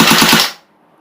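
An airsoft AK rifle firing full-auto on an 8.4 volt battery: a quick close burst of about four or five rapid, evenly spaced snapping shots, loud, ending abruptly into silence.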